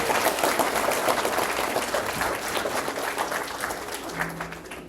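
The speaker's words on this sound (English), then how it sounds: "Let's give him a round of applause." Convocation audience breaks into applause, a full roar of clapping from a large crowd that gradually eases in level over several seconds.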